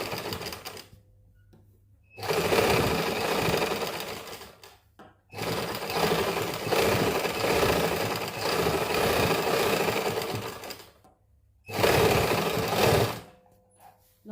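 A sewing machine stitches cotton lace onto fabric in three long, steady bursts of rapid mechanical clatter, separated by short quiet pauses.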